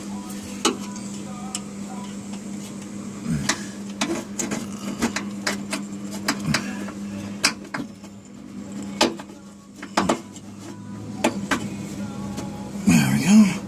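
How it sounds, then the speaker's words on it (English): Screwdriver and pliers working a brake line clip loose on a 1998 Chevrolet Suburban, sharp metallic clicks and ticks scattered irregularly over a low hum, with a scraping rattle at the end. "I'm going to take my screwdriver and pop that clip loose. Then use my pliers to pull it out."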